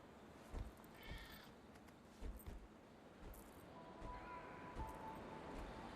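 Cats meowing in Guild Wars 2: End of Dragons, a few faint short mews scattered among soft footsteps and rustles, quiet and distant within the game's ambience.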